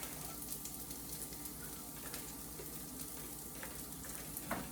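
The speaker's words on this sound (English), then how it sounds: "So add scallion whites and garlic." Garlic and scallion whites frying in a pan, a steady, close, even sizzle with a faint crackle throughout and no talk.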